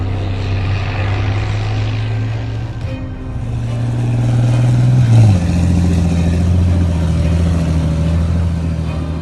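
A British Challenger 2 main battle tank's Perkins CV-12 TCA turbocharged 1,200-horsepower diesel engine runs as a loud, steady, close drone, its pitch shifting midway before settling into a deeper hum.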